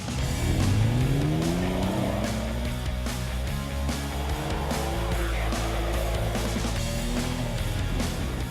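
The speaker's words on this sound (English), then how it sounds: "This is the world's fastest amphibious car." Powerful amphibious car driving on land, its engine droning steadily with rising and falling revs and a whine that climbs through gear changes, loud and close throughout.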